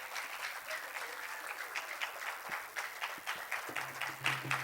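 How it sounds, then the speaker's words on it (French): Audience applause after a traditional percussion and dance flash mob performance, steady dense clapping from a crowd throughout, with a low hum and a voice entering near the end. "Non, vous n'avez pas assez applaudi."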